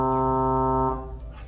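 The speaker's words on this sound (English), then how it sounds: "That's a trumpet sound." A church organ sounds a single low note on its trumpet stop, a bright, buzzy sustained tone that holds steadily for about a second before cutting off and fading in the church.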